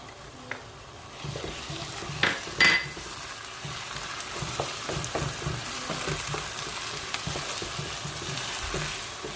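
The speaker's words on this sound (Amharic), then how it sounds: "አሁን ደግሞ ነጭ ሽንኩርት እንጨምራለሁ።" Garlic fries in a pan for an Ethiopian lamb stew, giving a steady close sizzle broken by stirring scrapes and a few sharp utensil knocks against the pan.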